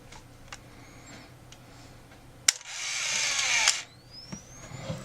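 A Canon AF35ML film camera's motor whirs for about a second after a sharp click, surrounded by small ticks and clicks in a quiet room.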